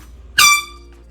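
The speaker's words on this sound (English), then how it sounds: "my husband does try to get me with the air horn" A single sharp, piercing air horn blast, loud and close, lasting a fraction of a second before cutting off into quiet room tone.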